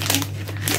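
Plastic bag rustling and crinkling close up in brief bursts over a low steady hum, with no talk.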